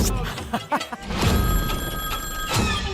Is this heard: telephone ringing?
yes